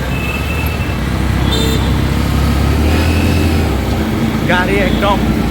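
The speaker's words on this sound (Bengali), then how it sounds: "কক্সবাজারে ঢাকার মতো জ্যাম" Congested street traffic in Cox's Bazar, Bangladesh, with a loud, steady rumble of engines, vehicle horns tooting and voices talking nearby throughout.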